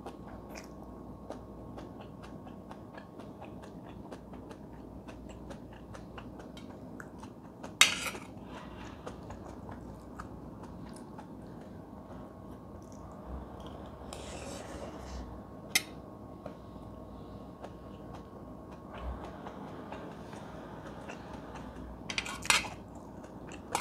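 Someone eating leftover vegetables and spicy stir-fried shrimp, with soft chewing and occasional sharp clinks of cutlery on a plate, faint and close in a quiet room, with a few brief voices.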